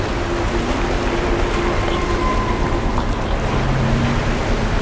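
Steady rushing water ambience in the horror video game Among the Sleep, a continuous wash of flowing water with faint tonal hums underneath, even and unbroken throughout.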